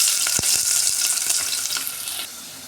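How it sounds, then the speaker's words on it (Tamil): Onions sauté in hot oil with a bright close sizzle and quick stirring scrapes and a couple of sharp taps, the sizzle easing toward the end. "வெங்காயம் நல்லா வதங்கிடுச்சிங்க"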